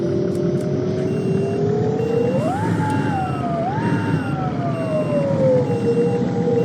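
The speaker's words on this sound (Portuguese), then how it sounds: "Vamos dar um rolê com o ônibus aqui." A bus engine in Proton Bus Simulator drones steadily, its tone rising and falling through two gear shifts and then winding back down.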